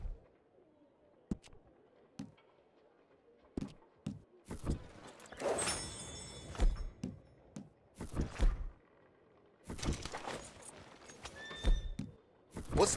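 A horse in Red Dead Redemption 2 whinnies and clops its hooves at a game stable, in several bursts of varying loudness with quiet gaps between, under spoken game dialogue.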